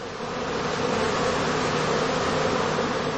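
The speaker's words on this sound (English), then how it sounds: "The experienced beekeeper can tell from their behavior at the entrance whether the bees are about to swarm" Honeybees massing at the entrance of a heather straw skep before swarming give a dense, steady buzzing hum, close and continuous throughout with no talking.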